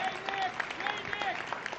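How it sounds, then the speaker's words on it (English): Audience applause at an athletic hall of fame induction ceremony, honoring the organizing committee chair; steady dense clapping fills the short stretch with a faint voice underneath. "let's have a round of applause for Nick Sardone"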